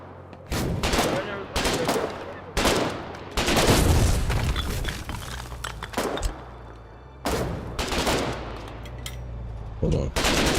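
Machine gun turret fire in a video game, loud repeated bursts separated by short pauses, with booming impacts and game noise between volleys.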